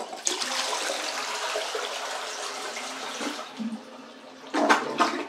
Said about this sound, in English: And now we should be able to see this thing flush.